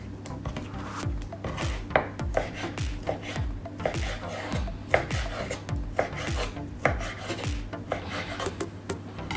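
A knife cuts ham into squares on a board for a Filipino-style pizza, producing repeated rasping strokes and quick knocks in a steady, busy rhythm, close up with no voice.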